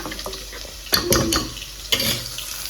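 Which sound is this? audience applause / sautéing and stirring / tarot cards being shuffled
sautéing and stirring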